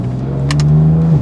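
Close, loud sports car engine revs in one sustained, steady drone with a smooth rising pitch, alone without talk.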